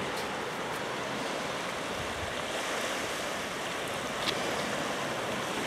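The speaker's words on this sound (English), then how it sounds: "there's some wave movement" Gentle sea waves at Carnoustie wash in a steady broadband rush with faint wind, a calm surf heard continuously with no voices.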